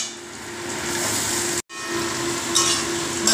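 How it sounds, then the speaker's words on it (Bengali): Potato, onion and garlic frying in hot oil, a steady close hiss and sizzle running throughout, broken by one brief gap and a few louder crackling bursts near the end. "হালকা করে ভেজে নিলাম আলু পেঁয়াজ রসুনটা।"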